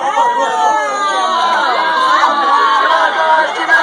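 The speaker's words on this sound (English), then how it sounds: "I want everybody to start cheering them on." A crowd cheers and shouts steadily at a roach eating contest, a dense wall of voices, whoops and chatter that stays loud and close from start to finish.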